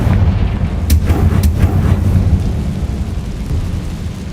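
Explosive blast of the Confringo fire spell in the game Hogwarts Legacy: loud low rumbling boom with a couple of sharp crackling bursts near the start, fading into a sustained roaring rumble.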